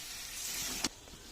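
Goat meat (mutton) curry sautéing in a pan gives a steady, fairly faint sizzle. It cuts off abruptly near the end into a softer hiss, with no talking.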